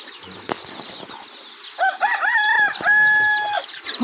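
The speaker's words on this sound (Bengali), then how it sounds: "এসে মুরগিটা ছেড়ে দিয়েছি" Village chickens just let out into the yard cluck and squawk loudly and close by. A rooster-like crow stretches through the second half, with brief wing flaps and scuffles, and no talking.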